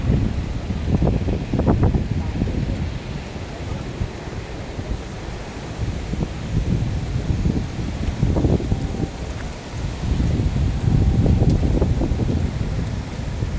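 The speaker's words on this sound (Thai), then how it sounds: "ลมพายุฤดูร้อนนะครับ" Strong summer storm wind west of a fresh market in Ban Muang district, roaring and buffeting the microphone in continuous gusts that swell and ease, loud and close throughout.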